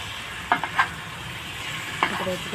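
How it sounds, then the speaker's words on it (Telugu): Fish curry pieces being stirred in a pan, giving a few soft scraping and clinking strokes over a low, steady sizzle. "ఇప్పుడు ఆ ముక్కలన్నీ తిప్పుతూ చాప ముక్కలు మొత్తం"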